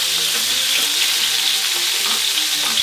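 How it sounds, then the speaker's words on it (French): Steak fries in duck fat in a hot pan with a loud, dense, steady sizzle and crackle from start to finish, no voices. "La poêle est chaude. Graisse de canard. La viande comme ça."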